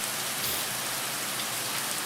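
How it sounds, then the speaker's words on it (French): Steady rain falls outdoors, a dense, even hiss of drops on surfaces, continuous and alone. "il pleut."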